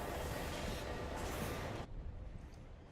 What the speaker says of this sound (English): I got this fancy new train and I need to use it